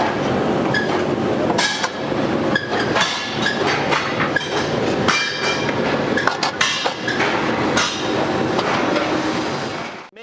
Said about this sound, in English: you may need to take a rubber mallet